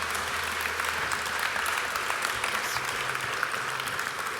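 Conference audience applauds after panelists are thanked at a plenary session on responsible public procurement; sustained, even clapping from a large room, continuous and fairly loud throughout.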